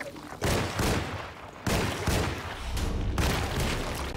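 Pistol gunfire in the Alone in the Dark 2024 remake: three loud, booming shots spaced over a few seconds, each followed by a sustained rumbling tail, with no talking.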